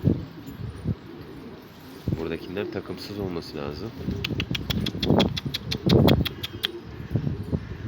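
Pigeons coo in a crowded coop of hundreds of birds, with soft throaty calls rising and falling under someone speaking nearby, while bright rhythmic chirps or clicks pulse through the latter half.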